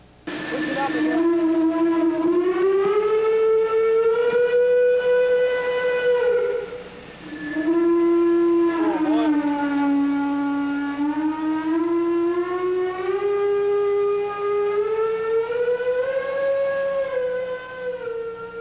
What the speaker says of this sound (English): varying this handle will change the steam column in the variable pitch whistle